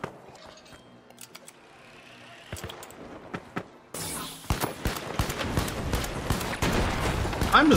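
Rifle fire from the Pike-556 in the shooter game The Finals, with sharp shots scattered at first, then a loud, busy stretch of rapid cracks over dense game noise in the second half.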